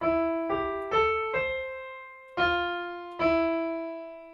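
Electronic keyboard playing a short phrase of the Ganesh Aarti melody, six separate sustained notes with clear attacks, steady and moderately soft, with no voices.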